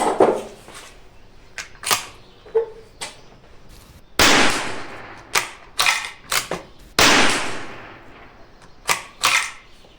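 Sharp rifle gunshot cracks from a Tikka T1x at a shooting range go off at irregular intervals, some in quick pairs, loud and close, with mechanical clicks in between.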